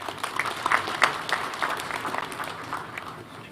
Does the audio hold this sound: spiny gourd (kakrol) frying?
no